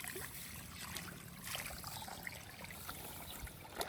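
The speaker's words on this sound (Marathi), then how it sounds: "खांडीतून पाणी जाऊ दे कारण वरून पाणी जास्त आहे ना" Water runs through a gap in an earthen field bund on a Konkan farm, a steady, fairly faint trickling and gurgling wash that continues for the whole stretch, with no voices.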